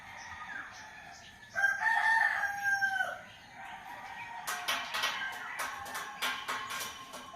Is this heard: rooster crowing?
yes